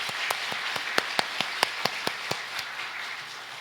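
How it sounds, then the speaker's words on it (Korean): Church congregation applauding together, a burst of sharp, fairly evenly spaced claps that thins out and fades after a couple of seconds, heard alone without speech. "하나님께 영광의 박수 올려드리겠습니다"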